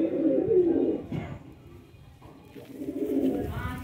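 Pigeons coo close by in soft, low, rolling calls that start, pause briefly, and then start again.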